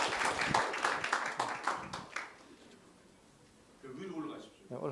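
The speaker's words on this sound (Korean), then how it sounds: "박수로 환영해 주시기 바랍니다." Church training-session audience applauds to welcome a pastor's wife to the front; about two seconds of moderate clapping that fades, followed by quiet and then a voice speaking.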